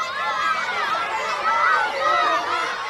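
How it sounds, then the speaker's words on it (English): A classroom of children all shouting out answers at once, a dense, overlapping babble of young voices sustained at an even, noisy level with no single voice standing out. "If we all shout it out, it might sound like this."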